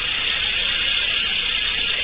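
Motors driven by an Arduino board whir continuously, a steady, fairly loud electric hum with a bright, even tone that holds throughout without any talk.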